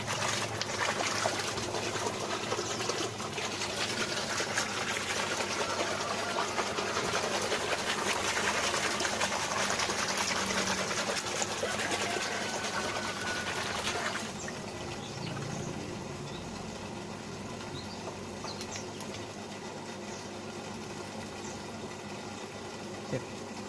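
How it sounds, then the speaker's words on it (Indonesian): Hydroponic plant nutrient solution is shaken in water, a continuous rough sloshing and rattling that runs loud for a long stretch and then drops to a softer, steadier wash. "Kita kocok lagi, takutnya belum merata."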